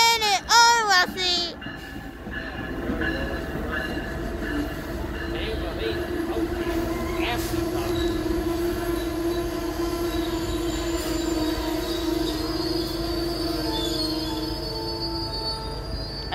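Amtrak Northeast Regional train at New Carrollton station, with rusty locomotive 615, gives a loud, sustained metallic wheel squeal over a steady rolling rumble that lasts for many seconds after a brief burst of other sound at the start.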